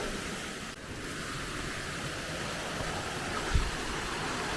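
Water running steadily through a stream in Telford Town Park, a soft continuous rushing wash with a brief faint knock near the end and no voices.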